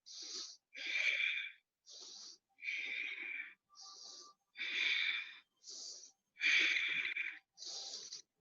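Close, forceful breaths in and out during an intermediate yoga pose, about nine distinct bursts in a steady alternating rhythm separated by brief silences.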